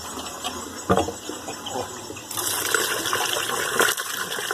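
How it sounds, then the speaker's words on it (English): Water poured from a bucket into a septic line pipe under repair, a steady gushing, gurgling flow that swells halfway through and keeps running, moderately loud and close. "All right, I'm going to pour the water."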